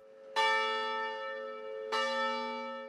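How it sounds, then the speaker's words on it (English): Church bells at St. Thomas Parish in Huntington toll twice, each strike a bright, ringing clang with a long humming decay that overlaps the next, clear and alone with no voices. "In Huntington, the bells tolled for the last time just prior to the 11:15 a.m. closing mass at St. Thomas Parish."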